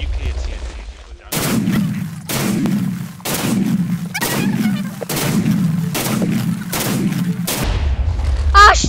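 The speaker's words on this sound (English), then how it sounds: "the firework TNT is still going!" Firework TNT exploding in Minecraft: a rapid series of about seven loud, booming blasts at regular intervals, one after another, followed by a rising whistle-like burst at the end, with no talk over it.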